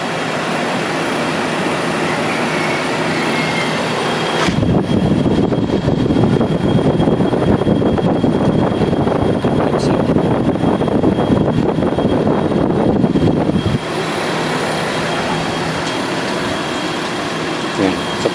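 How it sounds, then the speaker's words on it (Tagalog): A Condura air conditioner compressor kicks in, adding a loud broadband rumbling drone over the steady fan noise for about nine seconds before it drops back off. "So, antayin lang ulit natin ang mandar yung compressor"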